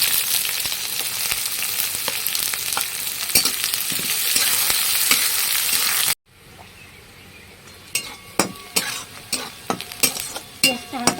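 Onions frying in oil with cumin seeds and bay leaf for a pointed gourd and chicken curry: a loud, close sizzle that cuts off abruptly, followed by quieter frying broken by sharp clinks of a spoon stirring the pan.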